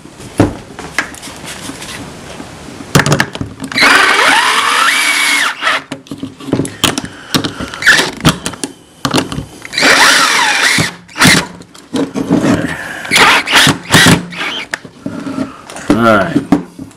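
A handheld power tool tightens two bolts on a bent metal part in several whirring bursts of a few seconds each, close and loud, with someone talking in the gaps between them.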